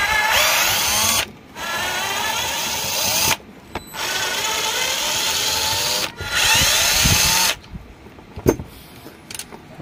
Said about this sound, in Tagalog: Tatanggalin muna natin itong sa harapan na mga 4 na screw para mahugot natin yan.